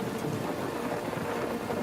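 A thunderstorm rumbles with dense, steady rain and a low roll of thunder, loud and continuous with no voices.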